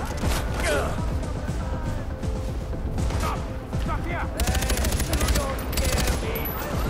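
Heavy automatic gunfire from enemy soldiers in the shooter Far Cry 4, loud rapid bursts overlapping with crashes and clattering in a dense, chaotic firefight that never lets up.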